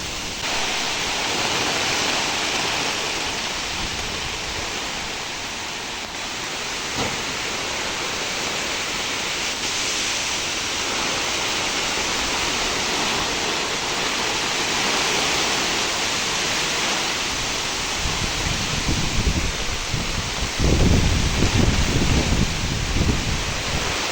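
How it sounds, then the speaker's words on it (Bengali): Heavy rain pours steadily while strong wind roars through it, a dense continuous wash of noise that grows rougher and gustier near the end, with no voices. "দেখেন বাতাসের পর কি জোরে বৃষ্টি আসলো"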